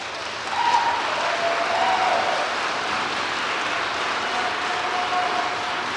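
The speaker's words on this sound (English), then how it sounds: "Gets the biggest cheer from the crowd." Crowd at a community election debate in Ottawa Centre applauding and cheering, a steady broadband roar of clapping held at even loudness throughout, with a few brief whistles or shouts rising above it.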